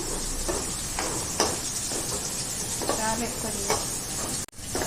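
Chopped ridge gourd and chutney ingredients sizzle and hiss in a pan, with a steady frying crackle and a few scraping stirs of a spoon, close up and without talk.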